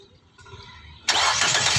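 Nissan Tiida with a 1.8 engine, just fitted with a new Amaron GO 46B24L battery, starts up: a short quiet cranking whirr, then the engine catches abruptly and settles into a loud steady running roar.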